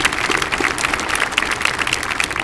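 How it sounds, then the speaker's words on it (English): A crowd at a military gathering gives sustained, loud applause for the band, many hands clapping in a dense, even patter from start to finish. "let's have a round of applause to the great members of the band"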